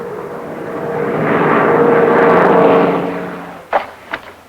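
The engines of a Douglas A-26 airplane swell into a loud, throaty roar that peaks and then fades, followed by a couple of sharp knocks.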